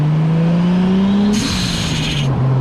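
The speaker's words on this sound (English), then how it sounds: "So the sound is actually going to come out of this part of the blow-off valve." An HKS SQV blow-off valve on a Toyota A90 Supra vents to atmosphere in a sharp, hissing burst of about one second, heard close over a steady engine drone whose pitch rises and then falls.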